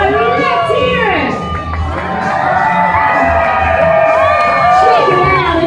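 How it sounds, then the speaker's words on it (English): Team UK crowd at a water-stunt show cheering, whooping and shouting loudly and continuously, with excited voices rising and swelling throughout. "If you guys cheer louder, he's gonna go higher."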